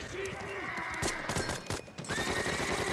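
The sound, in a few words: horses neighing in Band of Brothers episode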